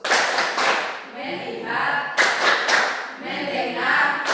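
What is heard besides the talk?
group clapping a rhythmic 'tepuk fokus' clap routine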